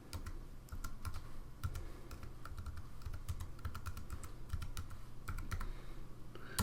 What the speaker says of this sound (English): Once your browser is open, type in fsi.illinois.edu.